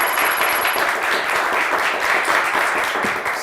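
Studio audience applause on the Turkish TV word game show Kelime Oyunu, a steady dense wash of clapping that holds evenly throughout, loud and continuous with no voices over it.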